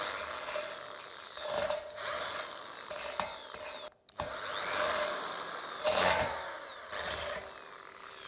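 A Dongcheng electric drill runs in steady high-pitched whirring bursts as it bores, the motor pitch shifting with load and briefly stopping once, loud and close with no talking.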